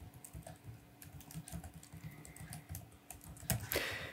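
An email address is typed on a computer keyboard: quick, close, soft key clicks in an uneven run, with a slightly louder burst of taps near the end and no speech.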